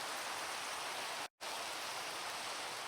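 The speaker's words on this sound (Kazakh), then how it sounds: "Жаңбыр қоймай қойды." Steady, hissing rain pours in a blocky survival video game, a dense even wash of noise that cuts out for a split second midway before resuming.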